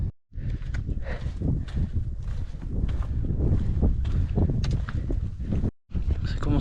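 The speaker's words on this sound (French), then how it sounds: "Ça souffle bien." Strong wind roars and buffets the microphone almost continuously on a mountain at about 3000 metres, loud and close, with a brief lull near the start and another near the end.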